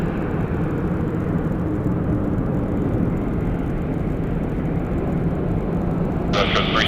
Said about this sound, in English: There's a Janet flight.